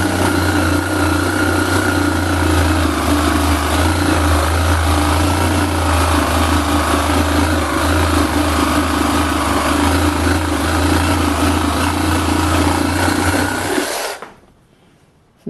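Small cordless reciprocating saw cutting sappy wood, struggling with a clogging blade: a loud, continuous motor whine with a rough buzzing rasp that holds steady for about fourteen seconds before cutting off.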